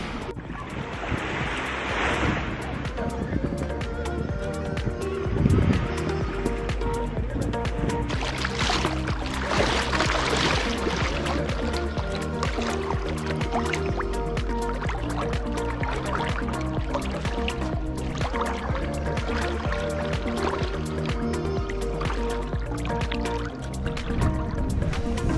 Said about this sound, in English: this is the Vati beach view